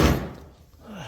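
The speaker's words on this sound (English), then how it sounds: "Nice squeaky door there." Back door of an empty barn swinging open, a heavy wooden thump at the start that fades out, then a short rising squeak of the hinge near the end.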